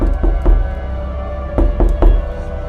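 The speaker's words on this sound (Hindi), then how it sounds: "उस रात करीब 2 बजे अचानक दरवाजे पर खटखट की आवाज हुई।" Knocking on a door at 2 a.m. in a Hindi horror tale comes in two close bursts of sharp, hollow raps, first a pair and then a quick triplet, loud and near with a pause between.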